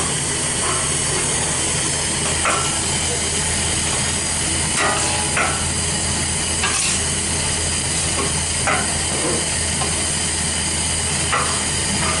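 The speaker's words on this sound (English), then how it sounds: "So we'll stir all this up." Chopped vegetables and garlic sizzling and hissing steadily in a hot soup pot for chicken and vegetable soup, with occasional scraping taps of a spoon stirring them.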